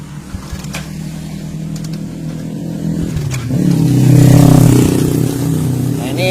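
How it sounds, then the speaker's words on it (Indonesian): Kawasaki Kaze R motorcycle engine being kick-started, a few kicks and sputters followed by the engine catching and revving up loudly near the end. "kita coba engkol lagi nih."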